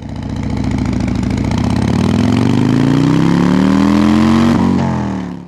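A 2024 Harley-Davidson Street Glide motorcycle engine runs close by, a loud, steady throbbing rumble whose pitch creeps slowly upward as the revs build gently, then cuts off near the end.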